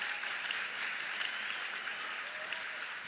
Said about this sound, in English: The crowd applauds the hustle.